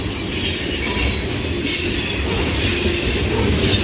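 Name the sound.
freight train cars rolling past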